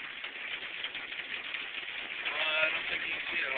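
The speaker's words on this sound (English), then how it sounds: "it's really raining pretty hard" Heavy rain drums steadily on a Ford Ranger pickup truck, heard from inside the cab as a dense, unbroken hiss that swells slightly louder toward the end.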